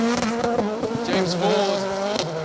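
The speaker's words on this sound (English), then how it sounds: "Ford on the limiter in that C3 Rally 2. We don't often hear these cars being driven on the limiter." A Ford C3 Rally 2 rally car engine held on the rev limiter, giving a continuous high, buzzing, stuttering drone that stays loud throughout.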